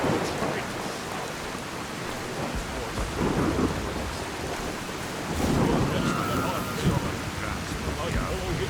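Rain and thunder in Skyrim with the Falskaar mod: steady hissing rainfall fills the whole stretch, with low thunder rumbles swelling twice and rolling under the downpour.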